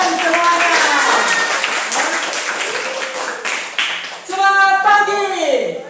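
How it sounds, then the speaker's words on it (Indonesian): Students clapping their hands in a classroom during a school lesson, brisk claps mixed with excited young voices shouting and cheering over them, growing livelier near the end. "Tepuk tangan buat kalian semuanya."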